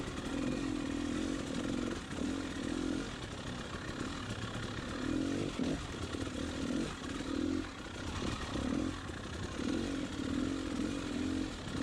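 Dirt bike engine revving in hard enduro riding through a creek section, heard as a buzzing two-stroke-like drone that rises and falls in repeated throttle bursts, fairly faint and steady throughout.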